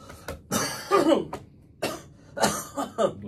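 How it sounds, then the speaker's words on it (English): Several harsh coughs in short bursts, close and loud, with brief pauses between them and a quick throat-clearing rasp. "It's just a cough"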